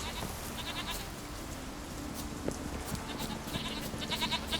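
Goats bleating in The Witcher 3 video game, several faint scattered bleats against quiet outdoor ambience, growing a little more frequent toward the end.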